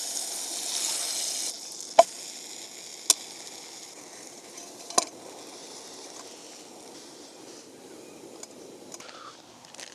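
Bread slices toast in butter in a frying pan at a campsite in the Waitākere Ranges near Auckland, giving a soft steady sizzle with a few sharp clicks and pops, fading slightly over time.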